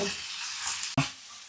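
Vegetables sizzle and fry in a pan with sauces, chilli sauce, soy sauce and vinegar, as a spoon stirs them, giving a steady crackling hiss broken by one sharp scrape or clank near the end.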